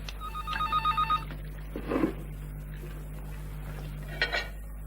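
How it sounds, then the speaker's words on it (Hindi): Old landline telephone bell ringing in short bursts at a breakfast table, the rings fairly close, alongside clinks of cutlery and dishes against a steady low hum, no talk. "नाश्ते के वक्त फोन की घंटी मुझे सख्त नापसंद है।"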